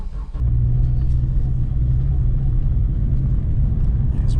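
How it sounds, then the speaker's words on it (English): Honda Integra DC5 driving at a steady pace, with a loud, continuous low engine and road rumble inside the cabin, apart from a brief dip at the very start. "just basically a point of view of me driving my DC5 really"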